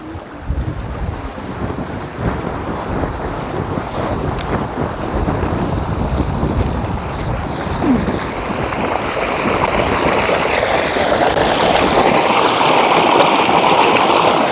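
Steady rushing water close by, broad and continuous, with gusts of wind buffeting the microphone and the roar growing slightly louder toward the end.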